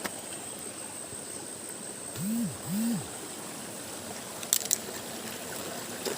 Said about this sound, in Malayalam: എന്താ വെള്ളത്തിൻ്റെ സൗണ്ട് അറിയാൻ പറ്റും.